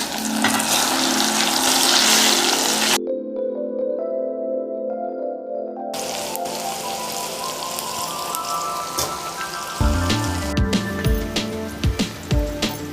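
Okra (bendakaya) fries in hot oil for a hotel-style side dish, giving a dense, steady sizzle that cuts out abruptly for a few seconds, then returns with crackling and stirring clatter.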